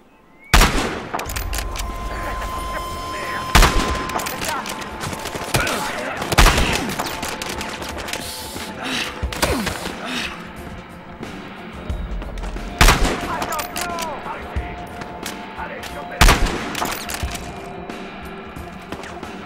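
Gunfire in the video game Battlefield Hardline: loud, sharp shots and bursts cracking out over a dense roar of battle noise, with heavy blasts recurring every few seconds throughout.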